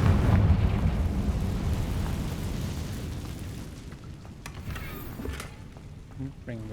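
Confringo fire spell explosions in the video game Hogwarts Legacy: a loud, rumbling blast opens and decays over several seconds into a lower roar, with a few sharper pops near the end.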